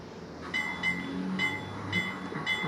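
A model switcher locomotive on DCC control runs along its track with a steady low hum and faint rhythmic clicking, close by and alone with no talk.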